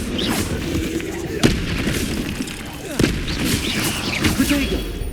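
Confringo fire spell blasts in the Hogwarts Legacy video game, two sharp booming impacts over a busy, continuous layer of combat effects and rumble, with spoken spell incantations around them.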